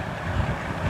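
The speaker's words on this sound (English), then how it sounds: "the energy that's coming down this road right now, these wind gusts are remarkable." Hurricane Milton wind gusts roar down a roadway, a steady broadband rush with low buffeting thumps against the microphone, continuous and loud for the whole second with no voices.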